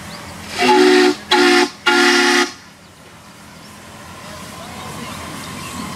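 A Mikado steam locomotive in a railroad yard sounds three loud whistle blasts, two long ones around a short one, followed by a quieter lingering hiss of steam.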